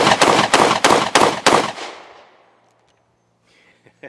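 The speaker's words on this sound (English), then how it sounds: "There ain't nothing like shooting a 1911." Five sharp, loud shots from an Alpha Foxtrot 1911 S15 Bob Gen 2 pistol in 9mm come in quick even succession outdoors, each cracking close, then the echoes fade into quiet with faint clicks.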